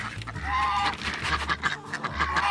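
Backyard chickens cluck and murmur in a busy cluster, joined by occasional duck-like calls, close by in an outdoor poultry yard.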